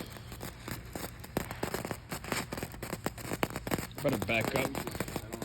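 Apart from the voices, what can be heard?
fireworks going off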